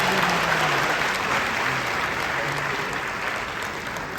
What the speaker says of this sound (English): I just want you to clap your hands